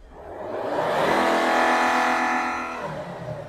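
A Volvo diesel engine with a Bosch EDC16C31 ECU revs up as the accelerator is pressed, rising to a loud, sustained high-rpm drone, holding briefly, then falling back as the pedal is released.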